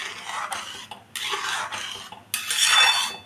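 Semolina dough being stirred in a pan, heard as bursts of scraping and clattering from a utensil against the pan, with short pauses between strokes and the loudest stretch near the end.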